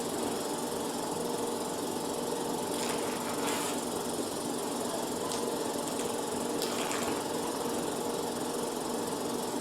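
A steady mechanical hum and whir of a Hydrafacial machine's vacuum suction runs throughout, with a few faint brief hissing bursts over it.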